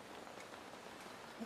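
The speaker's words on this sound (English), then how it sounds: "In the depths of the crater, it's raining again." Rain falls steadily inside the depths of a volcano crater, a faint, even patter with no voices.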